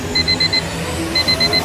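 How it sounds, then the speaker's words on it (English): A browser stock alert alarm beeps in two bursts of four quick electronic tones, clear and fairly loud over a steady background hum. "I don't have to listen for this alarm anymore."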